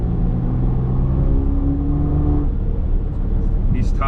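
A tuned BMW X3M engine drones loud and close from inside the cabin, a heavy low rumble with rising harmonic tones as it pulls, then settling, with a voice speaking over the engine.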